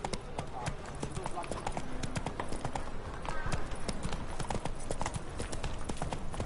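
Rapid rhythmic hoofbeats of a horse galloping in the video game The Witcher 3, a steady close clip-clop throughout, with someone talking over it.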